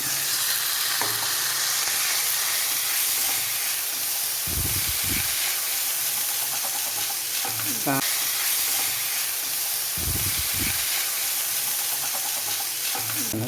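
Soaked ragi vermicelli, steeped in salted water, sizzles and hisses steadily in a hot pan while being made into upma, with a few louder scraping stirs of a spoon against the pan; close and continuous, without speech.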